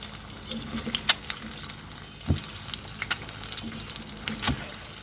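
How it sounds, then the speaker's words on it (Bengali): Iftar snacks fry in a pan in a home kitchen, a soft steady sizzle punctuated by a few louder clinks and stirs, heard alone without talk. "ভাজতেছি।"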